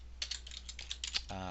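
Computer keyboard typing while an email address is entered, a run of quick, fairly close keystrokes in an uneven rhythm that ends in a steady electronic tone.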